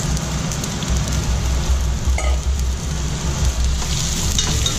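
Onions in warmed oil in a big pot give off a loud, steady sizzle like rain, continuous and close for the whole stretch without talk.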